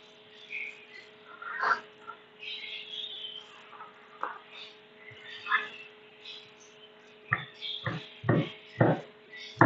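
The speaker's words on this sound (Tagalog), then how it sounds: "Ang ingay ng ibon." Scattered bird calls sound at first, then several loud, harsh caws come in quick succession near the end over a low hum.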